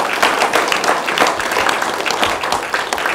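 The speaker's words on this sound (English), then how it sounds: "So I think we need to clap again for that." A seated audience at a talk on African American life claps steadily, a dense even patter of many hands heard close and continuous throughout.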